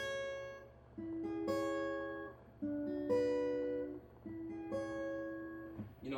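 Guitar triad chords played with a picked pattern rather than plain strums, ringing notes repeating in phrases of roughly 1.5 seconds, close and clear, no talking.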